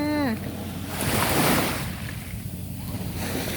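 Surf rolls and washes onto a beach on Ko Kham, Thailand, in a broad, hissing swell that rises and falls, with a brief tonal squeal at the start and wind noise throughout.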